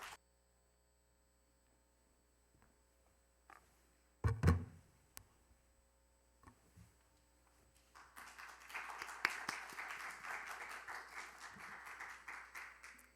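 Applause from the audience at a youth speech contest breaks out partway through, moderately loud and building after a quiet stretch with scattered taps and a low hum before it.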